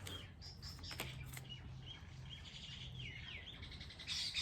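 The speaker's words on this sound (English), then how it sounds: "Sorry, birds." Birds chirping and tweeting outdoors, a steady run of small high calls and trills through the whole stretch, faint to moderate, with a louder burst of chatter near the end.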